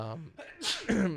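A single sharp sneeze bursts out right after a short stretch of speaking voice, close and fairly loud, with a quick breathy intake before it.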